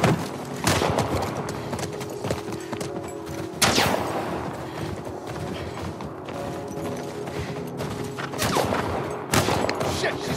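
In The Last of Us Part 1, a horse gallops with a quick clip-clop of hooves under bursts of gunfire, loud cracking shots and a mechanical rattle that punctuate the ride at irregular intervals.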